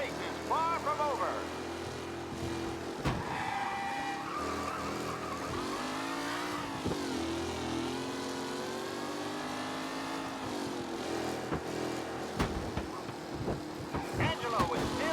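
Race cars revving and skidding in Mafia Definitive Edition, with engines roaring and tires squealing steadily all through, and the mix swelling at moments under busy game sound.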